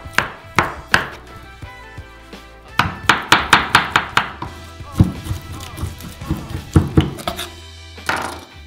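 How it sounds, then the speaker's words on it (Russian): A knife chops through doktorskaya sausage on a cutting board for a pan pizza, a string of sharp close wooden knocks, first sparse, then a quick even run, then irregular taps. "Пока корж нагревается, нарезаем докторскую колбасу."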